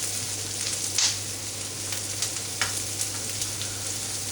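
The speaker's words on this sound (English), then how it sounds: "just listen to that sizzle" Steady, bright sizzling of food frying in a pan, with occasional crackles and pops, close and continuous with no voices.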